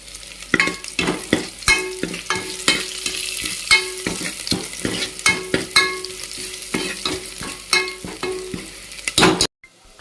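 Onions with fresh green and dried red chillies frying in hot oil for drumstick sambar, a steady sizzle broken by repeated scraping stirs of a spoon in the pan, close and continuous until it drops out just before the end.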